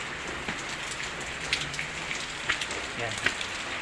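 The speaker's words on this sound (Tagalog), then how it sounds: "Ang lakas ho ng ulan, basa ho ako." Heavy rain pours steadily and loudly, with close raindrops spattering on a surface and a faint voice briefly underneath.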